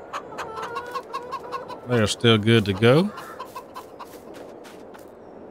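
Chickens on a farm in a farming game, soft scattered clucks throughout and a louder burst of clucking in the middle, with someone talking briefly.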